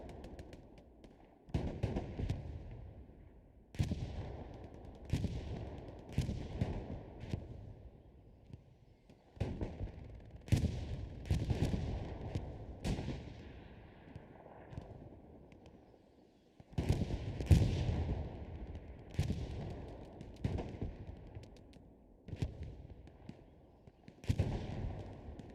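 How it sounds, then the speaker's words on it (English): A bombing run in the World War II shooter Hell Let Loose: a string of heavy explosions roughly every couple of seconds, each with a sharp crack and a long rumbling tail, mixed with scattered gunfire. "TL chose the bombing run to defend against the forward push"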